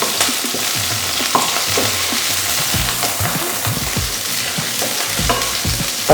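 Garlic, curry leaves and green chilli sauté in a pan with a continuous close sizzle and frying crackle, broken by scraping stirs from a spatula and occasional clinks.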